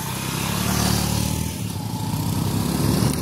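A motorcycle engine drones steadily at close range as the bike rides along, a continuous rumbling buzz with no pauses.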